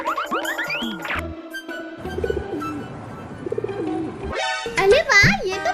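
A baby pigeon coos softly inside a home, its brief calls mixed in among lively voices and chatter from children and adults talking over it.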